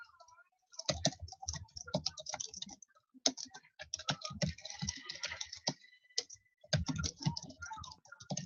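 Quiet, rapid clacking of fingers typing on a computer keyboard, coming in bursts separated by short pauses, with no talking.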